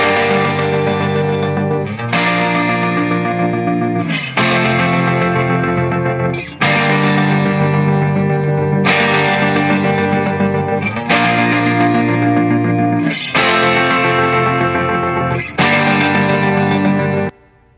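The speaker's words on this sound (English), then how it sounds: "So with the saturation and the reverb, it should be something like this." A band recording of a rock song run through saturation and reverb plugins, heard as a distorted, thick guitar and band passage in repeated chord blocks about two seconds apart, with each block cut off sharply. No voices.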